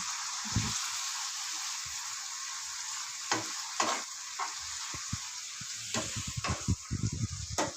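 Tomatoes frying in a pan for a North Karnataka-style tomato palya, a soft steady sizzle with occasional scraping stirs and clinks, close and fairly quiet, with no talk.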